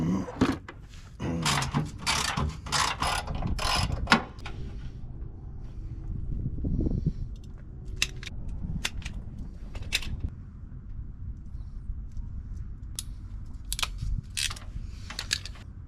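A 12V socket being screwed down under a truck bed with irregular clicking and ratcheting bursts of a tool, some rapid runs and some isolated clacks, heard close with light rustling between.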